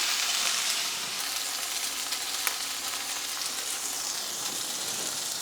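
Tuna fillets fry in a pan, salt side down, giving a steady close sizzle with brief crackles and pops throughout, no voices.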